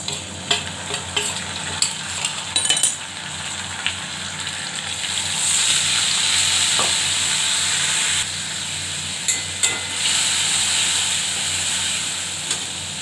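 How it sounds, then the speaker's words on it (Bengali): Onion with chillies, bay leaf, cumin and black cumin fries in oil as it is stirred, a constant hiss and sizzle punctuated by clusters of metallic spoon scrapes and taps, louder at the start and again later. "ভালো করে কষিয়ে নেব"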